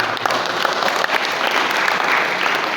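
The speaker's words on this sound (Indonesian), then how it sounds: "Tepuk tangan dong buat Ashabul Muslimin" A crowd at a Maulid Nabi gathering bursts into loud, thick applause, many hands clapping at once in a continuous, close roar for the whole moment.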